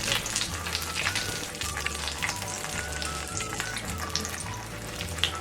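Chicken keema kachoris deep-frying in hot oil give a steady, dense crackle and sizzle that runs unbroken throughout, close and fairly loud, with no voices.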